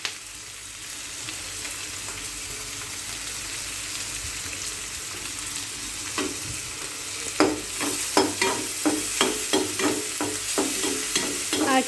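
Tomatoes frying in a pan with onions for vegetable Maggi noodles, a steady sizzle that grows busier as a spatula scrapes and stirs in quick repeated strokes near the end.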